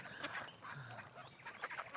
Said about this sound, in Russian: Утки, уточки, улетайте отсюда!